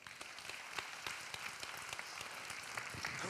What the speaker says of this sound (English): Let's give a big round of applause for our one and only platinum sponsor today